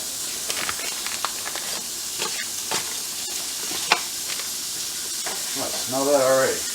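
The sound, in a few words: Italian sausage frying in a pan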